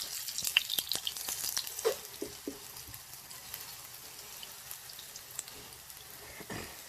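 Plantains frying in oil in a Caribbean home kitchen, giving a soft steady sizzle broken by a few sharp crackles and pops early on, then settling into a quieter continuous hiss.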